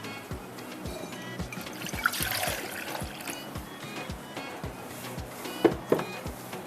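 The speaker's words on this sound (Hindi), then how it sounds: "इसमें डालते हैं पानी" Water trickles and splashes as it is poured into a cooking pot, a continuous liquid stream with small gurgling pulses and a few brighter splashes near the end.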